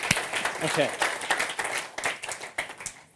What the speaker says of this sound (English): A round of applause, please, for the volunteer.